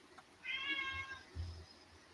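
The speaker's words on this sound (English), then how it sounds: "Was that a cat? That's cat." A cat gives a single clear meow, fairly faint and at a distance, with low background rumble and no talking.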